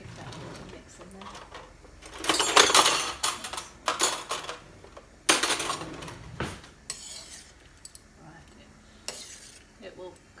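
A spoon stirs chicken soup in a pot, scraping and clattering in short bursts. A voice talks quietly between the louder knocks.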